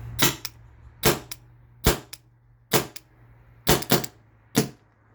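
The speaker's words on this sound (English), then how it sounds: "there's no way to degas this aside from just dry firing" A Byrna TCR launcher dry-fired on leftover CO2 gives sharp, close pops, about seven in irregular succession, some as quick doubles, each with a sharp hissing release over a faint steady hum.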